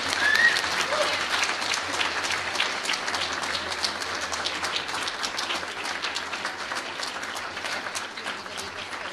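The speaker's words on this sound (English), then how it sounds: "Please give her a lively round of applause." Sustained audience applause at an awards breakfast for a human rights award recipient, a dense steady wash of clapping from a large crowd filling the room with no pauses.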